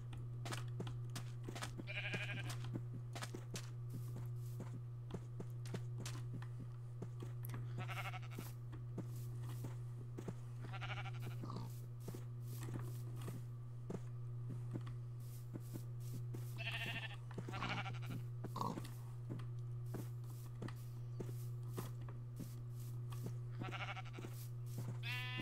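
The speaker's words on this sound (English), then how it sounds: "There's some sheep." Minecraft sheep bleat several times at irregular intervals over a steady low hum, each bleat short and fairly clear, with no talking.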